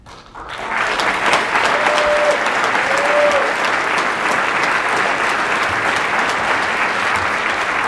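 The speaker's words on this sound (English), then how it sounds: "let's give him a big round of applause" A large audience gives sustained, loud, even applause honoring a martial arts master at a kickboxing world classic event, with the clapping building quickly and holding steady throughout.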